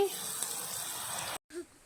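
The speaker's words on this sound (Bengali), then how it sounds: "পটল ভাজা করছি" Pointed gourd (potol) frying in a pan gives a steady, close sizzling hiss that fills most of the moment, breaks off briefly, then returns more quietly.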